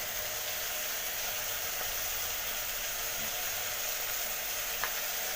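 Mutton frying in a pan over a high flame, giving a steady, even sizzle that runs unbroken throughout with no voices.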